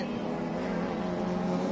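Thailand Super 2000 touring race cars lap a circuit, a steady droning engine note held loud and continuous for the short stretch, with no clear pass-by.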